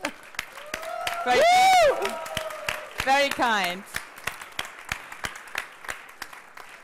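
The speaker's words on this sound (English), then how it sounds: "So an applause for Bayer MaterialScience." Applause for the Bayer MaterialScience team fills an innovation slam hall. Steady claps run throughout, with a loud whooping, whistling cheer rising over them partway through and a brief spoken reply.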